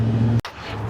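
A Roush F-150 or Ford Raptor pickup engine idles with a deep, steady, close purr, briefly cutting out for a split second before the low rumble resumes.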